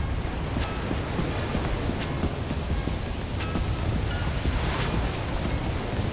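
Steady ocean surf and wind across open water in the video game Lethal Company, a constant loud wash of noise with no pauses.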